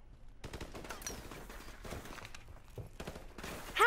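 Rapid bursts of automatic gunfire in Call of Duty Modern Warfare Remastered crackle in dense volleys, some shots distant and some close, ending in a louder burst.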